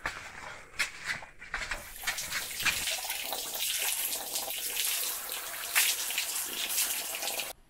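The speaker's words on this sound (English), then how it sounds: "Let's get into the shower." Shower water running steadily in a bathroom in Namibia's Kaokoveld desert, a close, continuous hiss and splatter that starts after a few brief knocks and clatters.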